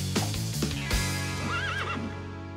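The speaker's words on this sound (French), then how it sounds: "Où es-tu, cheval?" A cartoon horse gives a loud rising-and-falling whinny over background music, preceded by a few sharp clip-clop hoof strikes, close and prominent.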